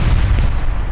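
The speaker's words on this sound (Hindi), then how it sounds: "मिलिट्री एयरबेस में सुने गए कई धमाके" Explosions at a Russian military airbase struck by drones: a loud, deep, rumbling blast that fills the whole second, heavy in the low end with a sharper burst partway through.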